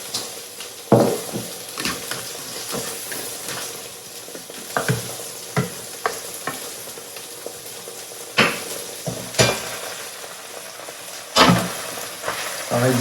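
Spinach, peas and fennel sizzling in salted butter on a hot plancha, a constant close frying hiss broken by sharp stirring and utensil clacks against the pan.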